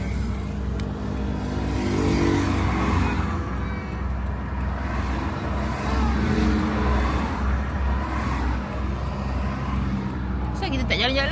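Inside a moving car, a steady low engine drone and road rumble run throughout at a fairly loud level, with voices talking over it.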